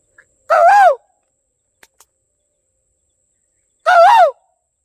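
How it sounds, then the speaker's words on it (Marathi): Two loud, rising calls of an Asian koel, each about half a second, separated by a few seconds of near silence with faint clicks between. "कोकिला कोकिला ओरडते"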